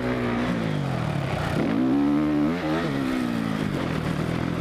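Suzuki motocross motorcycle riding a dirt track, engine loud and close throughout, revving up and down through braking bumps and a tight corner, with pitch rising and falling, no speech.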